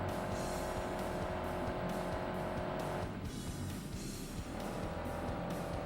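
Race car engine from Assetto Corsa Competizione, revving loud and steady throughout with gear changes, briefly dipping mid-clip, accompanied by tire noise.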